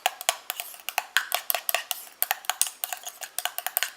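A spoon scrapes and clinks steadily against a bowl while homemade red-fruit night cream with beech bud extract and plant collagen is stirred, giving quick, rhythmic close-up taps with no voices.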